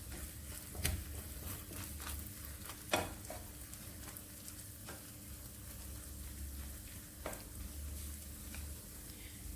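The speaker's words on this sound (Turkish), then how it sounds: "Böyle düzelttiğim omletimi bir tarafını pişiriyorum" An omelette of stale bread cooks in a pan, giving a steady soft sizzle with a few sharper pops and crackles throughout, no voices over it.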